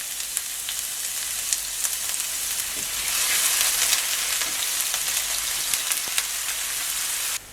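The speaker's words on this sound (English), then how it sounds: "You then want to fry the onions until golden brown" Onions frying in hot oil in a pot give a steady, close crackling sizzle with scattered sharp pops, swelling slightly louder midway and running continuously without speech.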